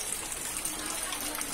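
Rushing floodwater during a typhoon in the Philippines pours in a dense, steady gush close by, a continuous loud churn of water with no pauses.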